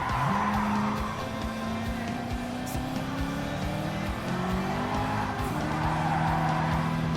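A race car in a racing video game skids after losing control, with a steady engine drone and long rising and falling tire squeals that run throughout, loud and continuous.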